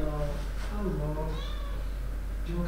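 A house cat meows softly several times indoors, short, rising mews close by under a steady background hum, with a person talking gently over them.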